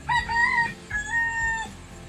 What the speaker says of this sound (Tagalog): Wala akong tigil ang mga manok dito.